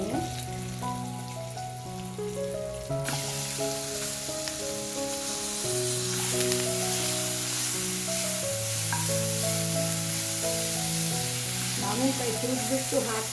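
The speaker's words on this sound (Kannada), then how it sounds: "ಮಾವಿನಕಾಯಿ ಹಾಕ್ತಾಯಿದ್ದೀನಿ." Grated raw mango sizzles steadily in a hot pan while mango rice is made, a continuous frying hiss under sustained background music.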